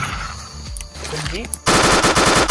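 An SMG fires in the Roblox video game, a loud rapid burst of gunfire that cuts in abruptly halfway through and continues steadily after some game sounds and brief talking.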